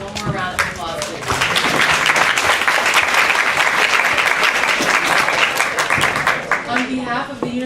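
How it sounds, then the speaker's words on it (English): Guests at a university diversity award celebration give the awardees a round of applause, a full burst of crowd clapping that swells after the first second, holds loud, then thins near the end as a voice begins to speak. "let's give them all one more round of applause, please"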